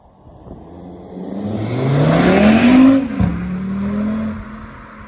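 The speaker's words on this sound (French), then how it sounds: "vous allez voir l'accélération, vous allez entendre un petit peu le bruit, la sonorité du 5 cylindres" An Audi RS five-cylinder engine accelerates hard, its rising tone climbing steadily and swelling louder, then dropping back briefly at a gear change before pulling on, heard close with no talking.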